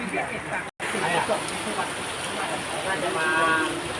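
Steady rain falling in a rural village in Thailand, a dense even hiss holding for about four seconds with one brief dropout, moderately loud with no clear voices over it.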